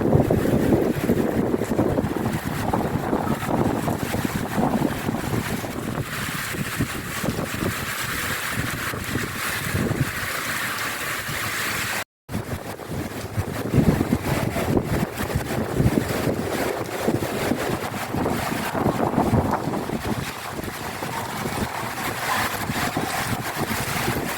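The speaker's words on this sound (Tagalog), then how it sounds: "Yan, ang lakas ng hangin." Strong typhoon wind during a Signal No. 8 storm in Hong Kong roars loudly and continuously, buffeting the microphone with steady rushing gusts and no voices.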